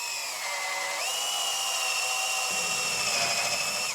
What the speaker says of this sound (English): I'm going to carefully drill pilot holes and sink the screw with the special bit.